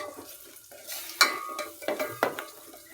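Ground masala paste roasting in oil for a Kolhapuri mutton rassa, heard as a soft sizzle with scraping stirs and a few louder utensil strokes against the pan.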